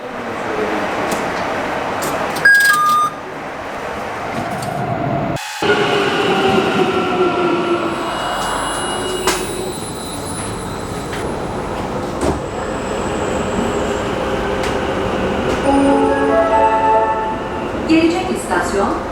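An Istanbul metro train rides along the line with a loud continuous rumble, rattling carriages and occasional squealing wheels and electronic tones, while people talk inside the car.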